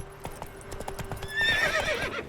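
Horse hooves clip-clop in a quick galloping rhythm in the video game The Witcher 3: Wild Hunt, followed by a clear whinny near the end, all fairly close and moderately loud.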